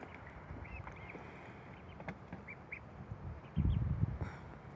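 A duck quacks a few times outdoors among farmyard birds, including a turkey, with faint short calls over a steady low background hum and a louder rustling burst near the end.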